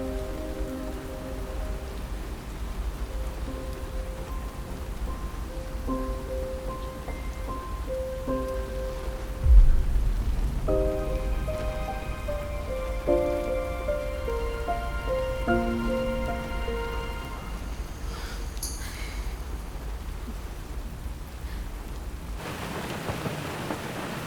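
Steady rain patters on surfaces with a low rumble of thunder near the middle, while soft melodic tones drift over the downpour and no one speaks.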